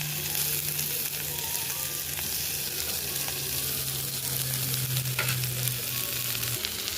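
Boiled potato frying with salt, turmeric and spices in a pan, a steady soft sizzle with occasional stirring clinks throughout, no talking.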